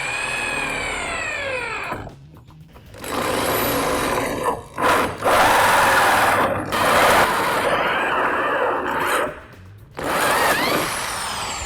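A power tool cuts into the transmission tunnel of a Toyota Supra undergoing a V12 twin-turbo conversion, giving loud, harsh grinding bursts broken by brief pauses.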